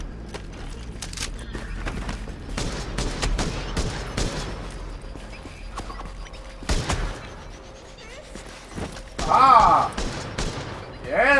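Turret gunfire in The Division video game rattles off in several bursts of rapid shots, mixed with heavy thuds and impacts. The shots vary from near to farther away, and a brief flurry of bright crackling comes near the end.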